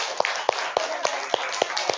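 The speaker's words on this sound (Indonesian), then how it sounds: "Tepuk tangan untuk kita semuanya" A group in a classroom training session claps in a sparse, uneven rhythm, about seven distinct sharp claps spread over two seconds, close and moderately loud with no talking.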